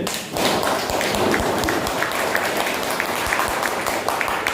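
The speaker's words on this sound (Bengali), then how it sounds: "একটা জোরদার হাততালি চাই" Audience applause at a Moringo Organics product talk, a dense, steady burst of many hands clapping close and loud, sustained for several seconds without pause.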